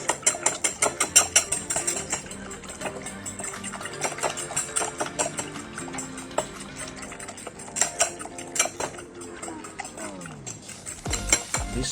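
Eggs for Thai-style kai jiao are whisked briskly in a bowl, giving a fast rhythmic clatter of utensil against the dish. It runs continuously for several seconds and slows to a stop near the end, close and clear.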